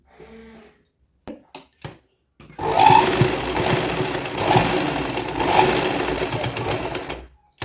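A sewing machine stitches a child's midi dress in a loud, close, continuous mechanical whir lasting several seconds, preceded by a few short handling clicks and a brief murmur.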